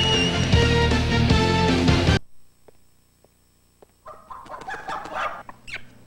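After a loud burst of music cuts off and a brief quiet, a chicken clucks several times, close and clear.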